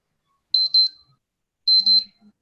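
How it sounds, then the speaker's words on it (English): Twin electronic quiz time-buzzer beeps sound twice, each a sharp bright pulse pair, loud and clear in otherwise near silence, with a faint voice at the end. "the time buzzer has gone"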